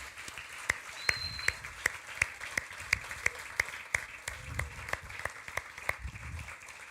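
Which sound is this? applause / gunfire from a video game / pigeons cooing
applause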